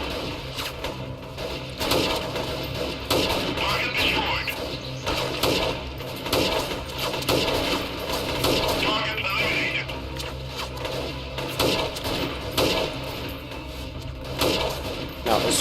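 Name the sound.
gunfire from squads in Freeman: Guerrilla Warfare video game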